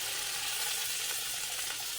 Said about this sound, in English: This is going to sizzle a lot when I dump it in because I got that broth.